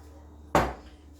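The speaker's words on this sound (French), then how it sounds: "dans une casserole, je viens mettre le riz" Dry rice tipped into a saucepan for sushi lands in one short, sharp close rush that quickly fades, with no talking.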